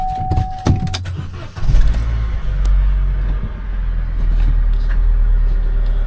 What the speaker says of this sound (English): A bit crammed in, but let's see if we can start it up